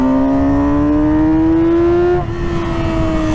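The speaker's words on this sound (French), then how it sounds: "Elle est ultra nerveuse, la réponse des gaz est immédiate." A 2009 Yamaha YZF R6 motorcycle engine revs hard and loud, its pitch climbing steadily before dropping sharply as the throttle is released, heard up close with no talk.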